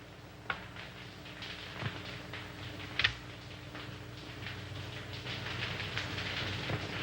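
A toy train clatters steadily around a track with a rhythmic clickety-clack and a few sharp clicks, running on without any talking.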